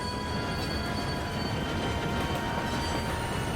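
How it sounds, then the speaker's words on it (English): A train rolling past in the Red Dead Redemption 2 game, played in VR, a dense continuous rumble with faint wheel squeal running the whole time, loud and near, no talk. "You want to shoot the train into submission?"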